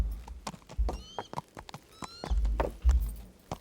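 Horse in the medieval game Kingdom Come Deliverance, with two high whinnies and a steady clip-clop of hooves, close and fairly quiet, with no talk.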